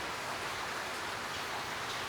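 Steady, even rain falls outdoors, a soft continuous hiss of drops on surfaces with no voices or other sounds.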